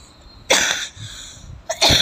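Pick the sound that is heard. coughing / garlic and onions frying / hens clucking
coughing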